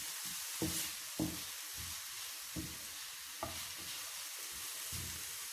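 Chickpeas frying in about a tablespoon of oil in a pan over low-medium heat, a steady close sizzle broken by periodic soft stirring knocks.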